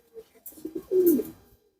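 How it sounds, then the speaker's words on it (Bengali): A female pigeon with a white tail, white wings and a white head gives a single low, rolling coo, close and clear, after a few soft rustles. "এটা একটা মাদি কবুতর"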